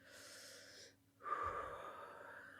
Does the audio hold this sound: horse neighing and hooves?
no